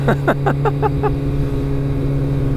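A Kawasaki ZX-14R motorcycle engine drones loud and close, with a quick run of falling revs at the start before it settles into a steady, heavy hum.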